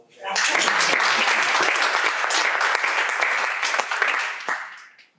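Audience applause at a theater talkback after a staged reading, a dense, sustained burst of many hands that holds loud and steady for about five seconds before tapering off.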